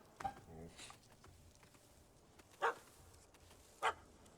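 Two sharp, separate dog barks from a puppy in The Witcher 3, spaced about a second apart over quiet game ambience, with faint voices earlier.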